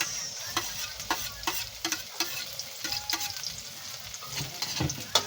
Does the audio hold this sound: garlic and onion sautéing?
yes